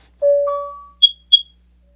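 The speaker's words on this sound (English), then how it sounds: "apparently we're having a smoke detector test" Electronic alarm tones: a long two-pitch beep followed by two short, higher chirps, clear and fairly close, with silence after.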